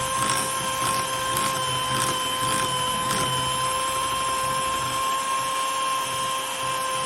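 An electric mixer beats millet cake batter with a steady, high motor whine, a few faint rhythmic pulses early on, then an even drone to the end.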